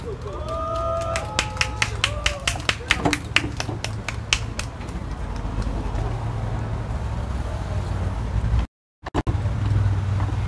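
Crowd clapping welcoming a lawmaker at an outdoor candlelight protest rally near the presidential residence, a burst of scattered claps early on that thins out while voices carry on, followed by a brief dropout.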